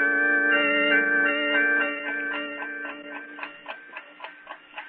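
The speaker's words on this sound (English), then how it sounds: "the only sound I heard was the ticking of the clock on my dresser" A ticking clock as a sound effect in an old-time radio drama, with a steady even tick-tock emerging under a sustained tonal musical drone that fades away.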